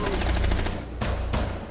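Gunfire in a Rainbow Six Siege team deathmatch on the Hereford Base map: a rapid burst of shots in the first three-quarters of a second, then two more sharp reports, loud and close.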